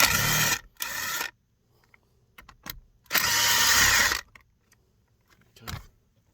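A screwdriver backs out Phillips head screws from a power seat switch panel on a 2004 Dodge Ram 1500, giving two longer scraping, grinding bursts and a few short taps and clicks between stretches of near silence.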